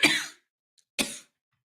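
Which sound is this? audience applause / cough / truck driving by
cough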